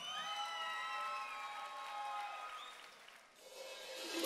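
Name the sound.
audience applause and cheering for Tinkus Cochabamba USA dancers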